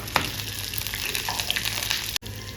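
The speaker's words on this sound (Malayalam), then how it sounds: "അങ്ങനെ കടുക് പൊട്ടുന്നുണ്ട്" Mustard seeds and dried red chillies splutter and pop in hot oil, a close, busy crackle of tiny bursts over a steady sizzle.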